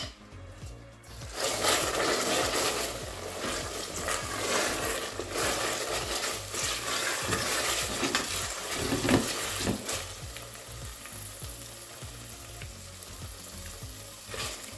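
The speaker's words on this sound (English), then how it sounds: "I fried it now for about 10 minutes on low heat, stirring it all the time" Jollof rice base frying on very low heat, a continuous close sizzle and crackle with frequent spoon stirring scrapes throughout, no speech.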